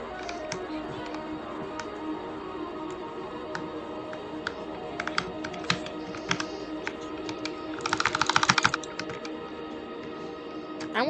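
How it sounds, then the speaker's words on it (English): Fingers tap on a computer keyboard during a Roblox gaming session, scattered clicks over a steady background hum, with a quick flurry of keystrokes near the end. "My keyboard didn't work."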